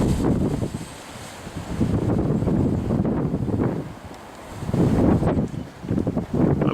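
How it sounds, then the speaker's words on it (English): Strong gusty wind blowing outdoors on a stormy January day, roaring against the microphone in surging waves that swell and ease repeatedly, loud and continuous with no voices. "the weather is absolutely insane. Talk about wind."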